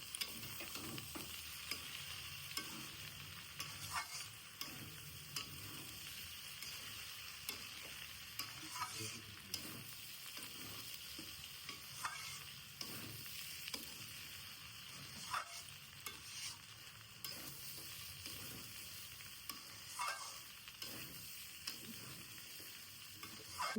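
Jackfruit curry with garam masala fries in a pan while it is stirred, a steady quiet sizzle with irregular scraping strokes running throughout, no voices.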